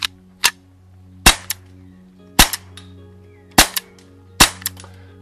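A PPQ paintball marker fires sharp, loud single shots, six to seven snapping cracks at uneven spacing with short ringing tails, heard alone without talk.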